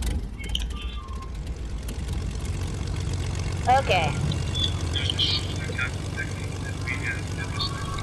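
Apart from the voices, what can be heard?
airplane engine in a video game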